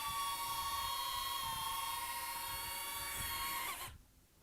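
A DJI Neo 2 camera drone hovers close by, following a hand gesture, with a steady high-pitched whine of buzzing propellers, then the sound cuts off abruptly near the end.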